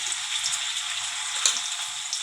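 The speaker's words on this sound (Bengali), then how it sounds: "এখন আমি কাঁচামরিচ পেস্ট দিয়ে দেবো" Green chilli paste hits hot oil in a pan, giving a steady bright sizzle with small popping crackles, close and fairly loud, no voices.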